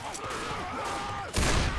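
Gunfire in Left 4 Dead 2, a dense burst of shots rattling steadily through the clip, growing louder and harsher near the end, with game tones and faint voices mixed in.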